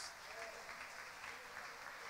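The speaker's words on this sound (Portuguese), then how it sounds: "Aplauda o nome do Senhor Jesus" A church congregation applauds in praise of Jesus during a teaching service, a continuous wash of many hands clapping, faint and distant, with no clear break.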